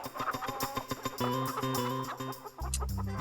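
A chicken clucking in quick repeated bursts, fairly close and clear, with a steady rhythmic pattern and no talk.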